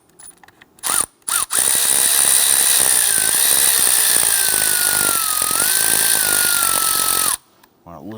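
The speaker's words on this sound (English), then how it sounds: "Now I want to remove that cam sensor using a T30 Torx bit." A power driver with a T30 Torx bit backing out the cam sensor screw on the valve cover of a 2011-2021 Jeep Grand Cherokee 3.6L V6, a loud, whirring buzz after two short bursts, lasting about six seconds.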